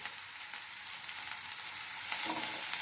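Ginger garlic paste frying in hot oil for a dried fish curry, a steady close sizzle that grows louder and busier near the end, with no talking.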